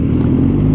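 A 2008 Suzuki Bandit 1250S motorcycle engine with its stock exhaust runs steadily at close range, a loud, even low rumble with no voices.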